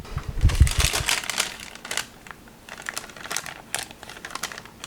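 Wax paper crinkles and rustles close by during a get-ready makeup routine, with a burst of handling noise at the start followed by scattered, quieter crackles and crinkles.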